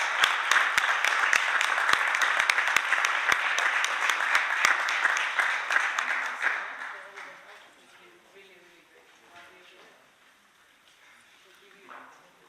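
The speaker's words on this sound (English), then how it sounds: "So round of applause for you." An audience at an environmental emergencies forum claps in a full, lively round of applause with some sharp individual claps. The clapping lasts about six seconds, then thins into murmuring voices and scattered room noise.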